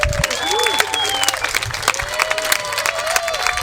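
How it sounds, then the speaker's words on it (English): An audience at an outdoor fiesta theater performance with a bluegrass band gives a big round of applause, dense clapping mixed with crowd noise and some whistles and voices. "How about a big round of applause for them?"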